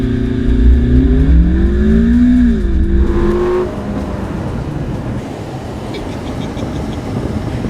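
A Ferrari California T launches from close by using launch control, its engine note climbing and shifting for about four seconds before falling back to a steady, quieter drone as it moves off.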